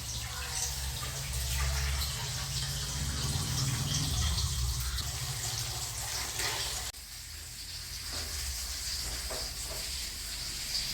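Water poured into a hot pan holding egg while cooking makes a steady, close hiss and sizzle that drops in level partway through and then carries on, with no talk.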